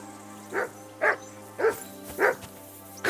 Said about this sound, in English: What's all the fuss about, Mutt?